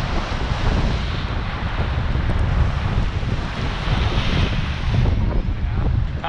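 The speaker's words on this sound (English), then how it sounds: "Windy, snowy, icy, the lake's choppy, it's angry, and getting some good waves out here" Strong wind roars across the microphone with a constant low rumble, mixed with the wash of choppy lake waves breaking nearby during a lake-effect snowstorm.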